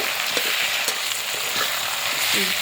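Eggplant fries in oil left over from frying fuchka, a dense, continuous sizzle close by with light clicks of stirring scattered through it and no speech.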